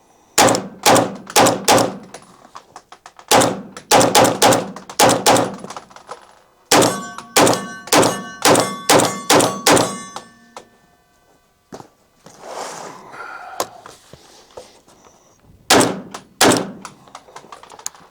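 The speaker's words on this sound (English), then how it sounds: "So now we're just gonna start dumping her rounds." PSA Jakl rifle in .300 BLK firing rapid strings during a 1,000-round torture test, loud sharp shots in quick bursts of several rounds separated by pauses, with a few scattered single shots and handling noise.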